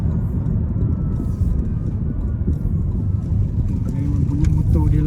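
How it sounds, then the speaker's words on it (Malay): Honda e:N1 electric car, 2025 model, driving on a Malaysian road, with a steady low motor and road hum and a faint whine rising near the end. Someone talks over the noise throughout. "Memang bunyi motor dia lah, bising sikit."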